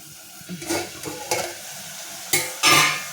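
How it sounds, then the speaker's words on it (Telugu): Tomatoes frying in oil in a pan, a continuous close sizzle with a few louder bursts of scraping and stirring, the strongest pair near the end, and no voices. "బాగా ఎర్రగా ఏగాలండి ఆయిల్ అంతా పైకి వచ్చేదాకా ఉంటే బాగుంటుంది అప్పుడప్పుడు మధ్యలో కలుపుకుంటూ ఉండండి"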